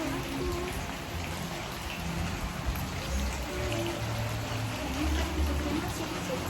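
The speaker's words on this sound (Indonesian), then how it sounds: "Ini lagi hujan, bagus banget." Steady rain falls at Lokananta, a dense, even patter of drops on surfaces that continues without a break for several seconds.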